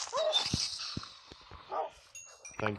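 A dog barks in Minecraft, giving a few short yips and whimpers amid game sounds and speech, fairly quiet throughout.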